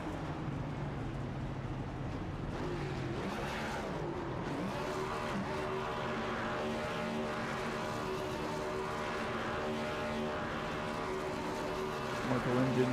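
An iRacing race car at Twin Ring Motegi rolls down the front stretch to park, its engine holding a steady, moderately loud droning hum with shifting pitch that eases slightly near the end.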